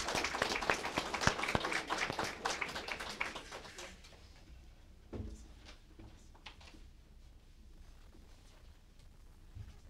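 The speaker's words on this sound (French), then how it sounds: "Merci, on peut les applaudir." Audience applause at a memorial ceremony: dense, loud clapping from a crowd for about four seconds, then tapering into scattered claps and faint room noise.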